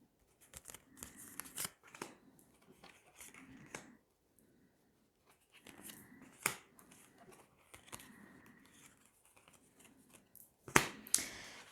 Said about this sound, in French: Allez, on va prendre 9 cartes.